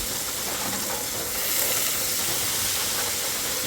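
Hilsa fish pieces hit a hot pan already seasoned with salt, turmeric and chilli, giving a loud, steady sizzle and hiss that runs without a break.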